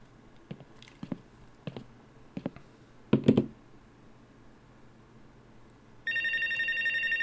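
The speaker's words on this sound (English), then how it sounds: "My first call." An in-booth telephone from the video game Life Is Strange: Wavelengths starts ringing after a few soft clicks and rustles, its loud, steady electronic ring carrying on to the end.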